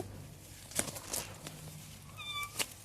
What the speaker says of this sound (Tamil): பூனை படைகள் என்னை சுற்றி எப்பவுமே என் கூடவே வருவாங்க